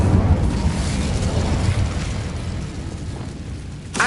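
An Incendio fire spell erupts in the Hogwarts Legacy video game as a loud, rushing roar of flame that slowly fades, then flares into a short crackling burst at the end.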